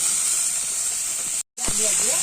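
Small shanka fish frying in a pan, a steady close sizzling hiss that cuts out for a moment, then resumes with faint voices underneath.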